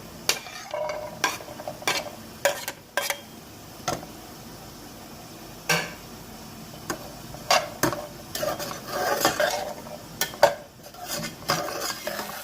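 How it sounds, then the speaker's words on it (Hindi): Okra frying in a little oil in a pan gives a low, quiet sizzle, broken by frequent sharp clicks and scrapes of a utensil stirring against the pan. "अब हम इसमें भिंडी फ्राई करेंगे"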